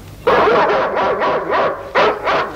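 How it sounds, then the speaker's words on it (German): A dog barks and yips repeatedly, loud and close, in a rapid run of about seven sharp barks with brief gaps, with no talking over it. "Don't like the sound of that dog."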